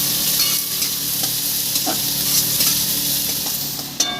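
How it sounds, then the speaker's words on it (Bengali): Finely chopped onions sizzle in hot oil as they are stirred, a steady close frying hiss broken by scraping stir strokes and a final sharper clack. "পেঁয়াজটা দিয়ে দেবো তেলের মধ্যে। তেলটা গরম হয়ে গেছে, দিয়ে আমি ভালো করে নাড়িয়ে নেব।"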